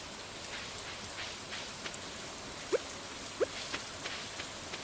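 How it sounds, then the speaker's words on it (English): Steady rain falls in the farming video game Stardew Valley, a soft continuous hiss with a couple of brief droplet ticks, heard alone at low level without talk. "Oh, it's raining outside."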